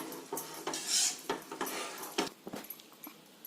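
Fine suji being stirred in a pan for bele obbattu, with a spoon repeatedly scraping and clinking against the metal in short, irregular strokes, close and fairly quiet.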